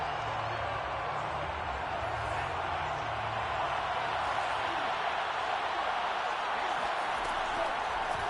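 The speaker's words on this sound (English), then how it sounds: "Plenty of shouts from this crowd as they watch the replay." Steady crowd roar from a football stadium in the video game Madden 22, a dense, continuous wash of shouting and cheering that holds at an even level throughout with no pauses.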